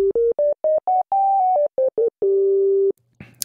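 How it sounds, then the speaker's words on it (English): A pure, smooth sine wave tone from a Vult oscillator module in VCV Rack steps through a series of short pitched notes, then holds one long sustained note before a brief noisy rustle. "we have a sine wave"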